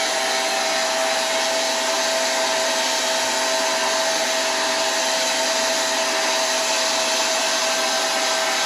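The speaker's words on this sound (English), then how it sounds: "This is one of those hot hair dryers." Hot hair dryer blowing steadily at close range while melting wax into an old cotton haversack, a constant loud airy whoosh with a faint motor whine throughout and no talking.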